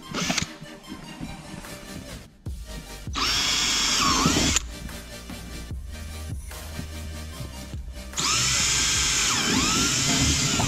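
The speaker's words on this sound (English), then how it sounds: "we're gonna start drilling these holes" A power drill whirs in several bursts, drilling vent holes in the CVT clutch cover of a 2017-18 Ski-Doo G4 850 snowmobile, its pitch rising as it spins up and bites, with quieter mechanical handling sounds in between.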